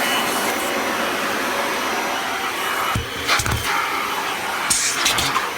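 Kirby Ultimate G Diamond Edition upright vacuum cleaner with its upholstery tool on couch cushions gives a steady, loud whirring drone throughout, with a few bumps and scraping thuds as the nozzle moves over the fabric.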